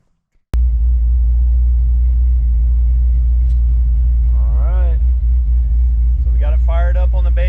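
Car engine fired up on a base tune: a sudden start followed by a loud, steady, close low rumbling idle throughout, with brief voices speaking over it near the end.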